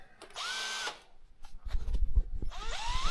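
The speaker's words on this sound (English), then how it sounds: "Drilling." Power drill whirring in two short bursts with a rising motor pitch, close and loud, as it bores a hole during an autosteer installation on a farm machine, with knocking and rattling of parts between the runs.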